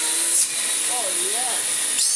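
A 1986 Vax 121 vacuum cleaner motor runs during a suction test with a loud, steady rushing hiss and high whine. A brief voice-like warble rises and falls in the middle.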